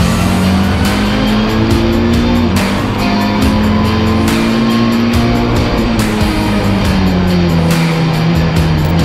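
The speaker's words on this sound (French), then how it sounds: "Moteur." A loud, dense wall of race car engines roars together at the start of an endurance race at the Nogaro circuit, pitches rising and shifting steadily as the pack accelerates away.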